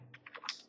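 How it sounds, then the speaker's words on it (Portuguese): Several quick keystrokes on a computer keyboard enter a phone number, light close clicks in an uneven burst with no talking. "Aí eu vou digitar o telefone."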